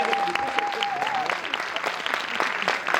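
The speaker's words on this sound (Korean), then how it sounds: "아무 이유 없이 일단 박수 쳐드립시다." A theatre audience at a film screening Q&A breaks into dense, sustained applause, many hands clapping together loudly and evenly throughout.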